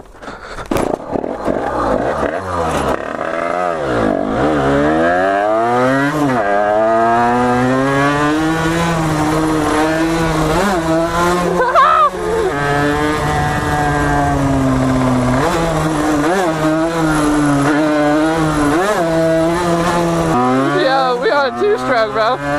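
A two-stroke dirt bike with a 49cc engine bored up to 80cc, revving high and buzzing in rising and falling sweeps, loud and close, with people talking over it.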